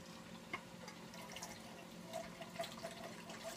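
Rinse liquid from a tomato can trickles and splashes into a pot of lentil soup, a faint continuous pour with small drips, heard alone.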